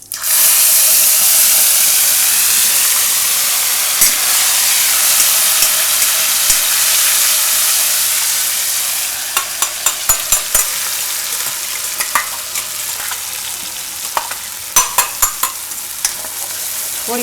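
Cumin, asafoetida and ginger-garlic-chilli paste hit hot oil with a loud, dense, continuous sizzle that eases slightly partway through, followed by a series of quick spoon taps and stirring clicks.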